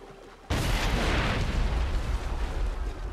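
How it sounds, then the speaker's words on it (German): An explosion goes off in Assassin's Creed 3, a sudden loud broadband blast at about half a second that rolls into a sustained, rumbling crackle lasting to the end. "Ich würde sagen, die Explosion leider immer noch nicht spektakulär genug."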